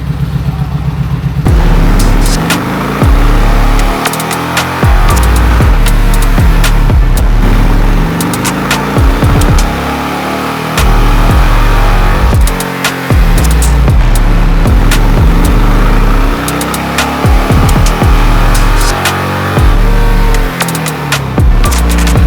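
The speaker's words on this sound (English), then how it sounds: "The bike, it has a tune in it, so I'm just gonna run it through now so you can hear it." A 2021 Kawasaki Vulcan Vaquero motorcycle runs on a dyno with no one talking, its engine revving and dropping back in repeated loud, close pulls for about twenty seconds.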